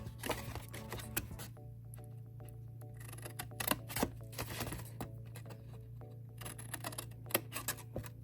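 Scissors cutting through the tabs of a paper treat box, a series of short, crisp snips and paper rustles heard close and quiet over a steady low hum.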